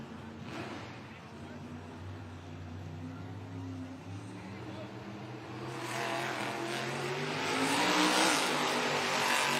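Gravedigger, a black and green monster truck, roars in an arena event, its engine a loud steady drone that swells louder near the end, mixed with crowd noise and an announcer's voice.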